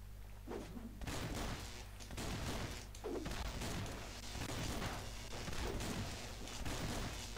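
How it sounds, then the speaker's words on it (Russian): Dense bursts of cartoonish machine gun fire and booms from the mobile game Swamp Attack rattle on in rapid volleys throughout, fairly faint and alone. "возьму пулемет, потому что чувствую"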